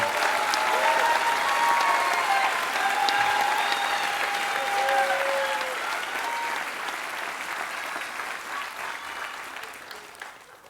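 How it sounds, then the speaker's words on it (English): Commencement crowd for the class of 26 applauds student athletes, broad sustained clapping with scattered cheers and whoops, strong at first and slowly fading over about ten seconds. "let's all give a round of applause to the student athletes"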